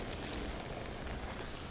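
Rain falls steadily on a street in New York's Little Italy near Mott Street, a dense even hiss with no voices.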